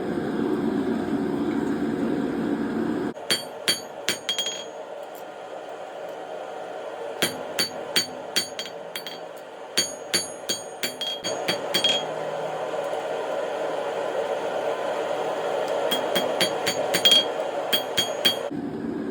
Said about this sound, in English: Okay, I'm going to start forging out that striker plate.